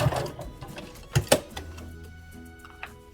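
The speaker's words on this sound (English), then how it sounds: "I'm going to back stitch" A sewing machine back stitching the top of a bear-themed dress at a pin, giving a few short bursts of mechanical whirring and clicking, close and fairly quiet, with no talk.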